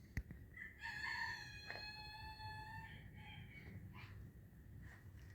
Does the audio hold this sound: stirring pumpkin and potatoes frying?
no